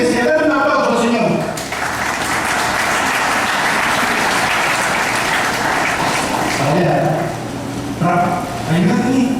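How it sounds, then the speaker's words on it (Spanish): A church congregation applauds in a broad, rain-like wash of clapping for several seconds while a speaker talks over the start and end. "La gente iglesia, dale un aplauso,"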